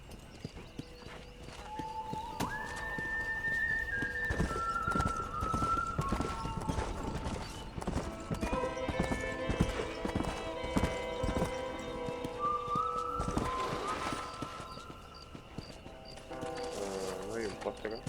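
Horse hooves clip-clop at a gallop with whinnies in Red Dead Redemption on PS3, game music and effects layered over them, and a voice speaks at times.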